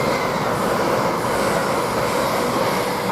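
Train at Peterborough railway station, likely an LNER service between London King's Cross and Hull or Newcastle, a loud continuous rolling rumble and rail roar filling the whole stretch without pause.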